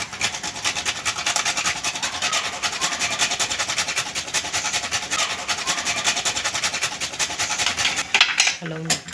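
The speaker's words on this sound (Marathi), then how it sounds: "याच्यावरती थोडंसं हलकंसं जायफळ आपण किसून घेणार आहोत" Nutmeg is grated over batata halva topped with dry fruit, making a continuous close rasping scrape for several seconds that ends with a few light clinks.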